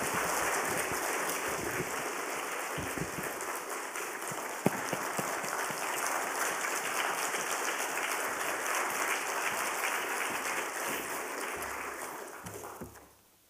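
A church congregation applauds a guest at a Friday worship service, a dense sustained clapping that fills the room for several seconds before fading out.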